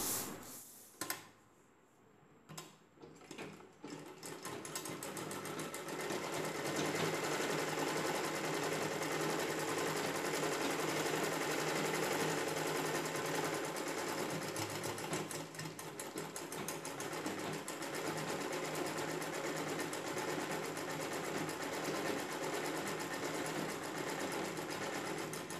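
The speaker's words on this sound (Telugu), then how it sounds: "పై వైపున లేస్ పెట్టి కుట్టు వేసుకోవాలి" An electric sewing machine stitches lace onto a saree blouse, a fast, steady mechanical whirring hum with rapid needle clatter that runs continuously after a few brief starting taps.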